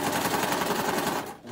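A sewing machine runs steadily while stitching a fabric napkin, a close, continuous whirring motor with a dense needle rhythm that slows and briefly drops near the end.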